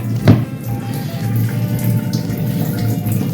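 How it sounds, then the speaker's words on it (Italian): Tap water runs steadily into an octopus set in a bladder for cooking, a continuous close pour with a brief splash near the start. "ci aggiungiamo un po' d'acqua."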